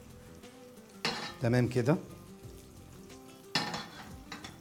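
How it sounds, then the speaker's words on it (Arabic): Carrots and garlic stir-fried in a pan, with a steady sizzle and loud metallic scrapes and clinks of a utensil against the pan in two bursts, while someone says a few words. "قلبت الجزر تقليبة أهوت"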